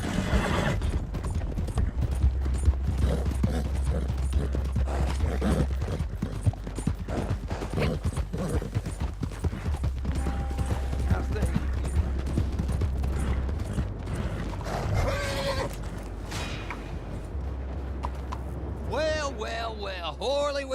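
Horse hooves clip-clop at a steady trotting rhythm through the Red Dead Redemption 2 game world, mixed with creaking tack, gear clatter and occasional whinnies, while characters talk over them.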